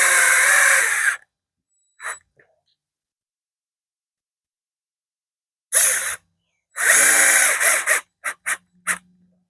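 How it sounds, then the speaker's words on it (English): A small DeWalt 12-volt cordless drill whirs in short close bursts on a model train table build, with a first burst, a long silence, then several longer and shorter runs ending in quick blips. "These little 12-volt DeWalt's are great."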